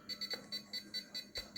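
A RadioLink RC6GS radio transmitter sounds its alarm, with a rapid, regular series of short, sharp electronic beeps repeating about eight times in quick succession. The beeps are close and moderately loud, with no talk.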